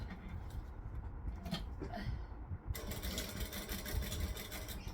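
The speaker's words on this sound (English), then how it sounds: "We're going to stitch and back stitch." A sewing machine stitches through foam, a short quiet start giving way to a steady whirring run of rapid needle strokes that continues to the end, with a pause and change of direction for back stitching.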